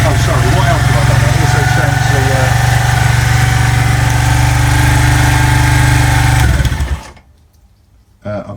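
A Senke X6 motorcycle engine runs at a loud, close, steady idle for several seconds, then cuts out and fades to near silence before a brief noise at the end.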